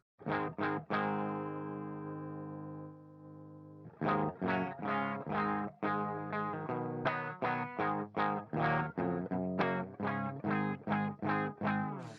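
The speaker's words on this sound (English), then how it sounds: "That's kind of a clean sound, a little bit flat." Electric guitar through the Nembrini Audio Crunck V2 high-gain amp simulator plugin plays a sustained chord and then a run of plucked notes, with a thin, fairly clean tone and no talking.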